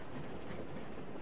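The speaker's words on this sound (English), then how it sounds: "The train has arrived at the station." Train rolling into a station in the city-building video game SteamWorld Build, a steady rumbling rail noise with a faint hiss, continuous and moderately quiet throughout.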